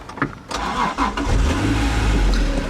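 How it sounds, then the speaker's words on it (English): A 1992 Acura NSX's 3.0-litre VTEC V6 engine cranks briefly and then catches, settling into a steady, deep rumble up close. "that is the famed engine that you're hearing start up, the 3-liter C-Series block VTEC V6 engine"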